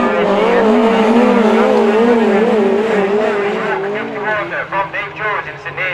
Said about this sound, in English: Paul Thompson trying to keep it steady as he goes through in the York car